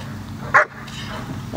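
A working dog gives a single short bark outdoors during training, quick and fairly close, with someone talking around it.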